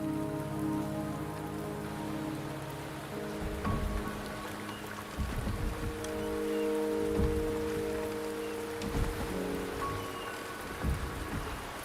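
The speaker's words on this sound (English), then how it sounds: "The rain is subsiding, and the sky will soon clear." Rain falls in the video game Wuthering Waves. The patter is steady and dense and holds throughout, with a soft low tonal hum underneath and a few dull thumps.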